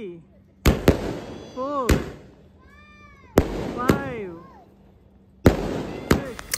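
Deepavali firecrackers and fireworks bursting nearby: sharp loud bangs in separated clusters, each followed by whistling, crackling trails, with a voice counting in between.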